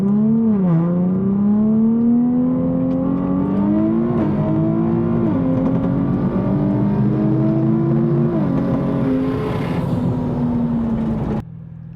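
A turbocharged Lamborghini Huracan roll racing against a high-power GM car, engines droning loud and close through repeated gear shifts, the pitch climbing and dropping with each change before the sound cuts off abruptly near the end.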